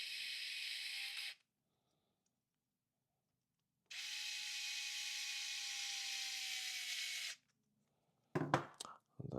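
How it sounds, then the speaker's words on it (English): Electric screwdriver winding screws into a plastic node enclosure during assembly: two steady whirring bursts, one short and one about three seconds long, separated by silence, then a few sharp clicks and knocks at the end. "I'm going to cheat with my electric one, and we wind in the screws"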